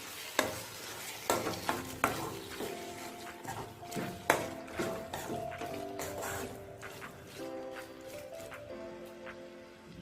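A spoon stirs chicken kaleji (liver) masala cooking in oil in a pan, with repeated clinks and scrapes against the metal over a soft sizzle. The strikes come irregularly and are fairly close.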